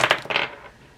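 Dice clatter briefly on a hard surface before a pick-a-card reading, a few quick bright clicks that settle and fade within a second.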